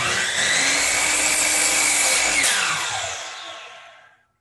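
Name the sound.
miter saw making an angled cut on a board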